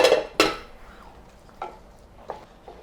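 Drumstick (moringa) curry with gram flour slurry being gently stirred in a pot: two sharp utensil clinks against the pot followed by softer, fainter scrapes, close by, with no voices.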